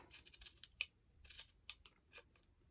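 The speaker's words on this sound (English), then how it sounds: "I will take my scissors and I'm going to just trim off" Scissors trimming quilt fabric snip several times in quick, crisp cuts, close and fairly quiet, with faint rustling between the snips.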